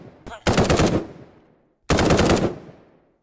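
Two bursts of rapid automatic fire from an M16 in a Minecraft superhero mod, each short burst cracking loudly and then ringing out in a long fading tail.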